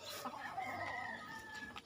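Backyard chickens in a home poultry pen cluck softly and continuously, a faint, steady murmur of several birds with no voices over them.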